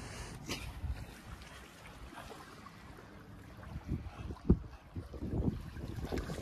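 Wind blows across the microphone at a beach in Sardinia, a low, uneven rumble with gusts that swell and fade, and a few louder buffets toward the end.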